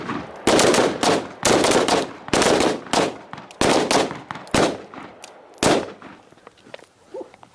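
Gunfire rings out at a night shooting course during a neighborhood defense drill, with loud, close bursts of rapid rounds fired in clustered volleys separated by short pauses, several shooters overlapping and the shots fading toward the end.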